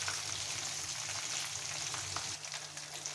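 Chicken roast frying in a pan crackles and sizzles steadily and continuously throughout, with dense spitting oil and no voices.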